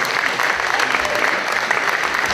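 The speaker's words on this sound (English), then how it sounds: "So if you can give a round of applause" A loud, dense round of applause fills a storytelling stage event, many hands clapping continuously and close.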